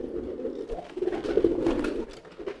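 Pigeons coo close by in low, throaty, rolling murmurs that rise and fall continuously for a couple of seconds.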